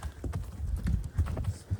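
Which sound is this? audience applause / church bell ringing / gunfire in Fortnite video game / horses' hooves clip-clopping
horses' hooves clip-clopping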